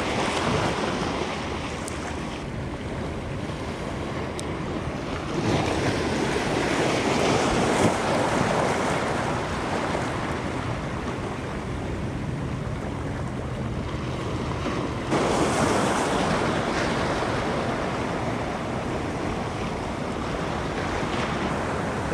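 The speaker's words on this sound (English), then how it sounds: "Size of the waves in here." Sea waves surge and break against rocks at a fishing spot, a continuous heavy wash with wind buffeting, swelling louder around the middle and again later, with no voices.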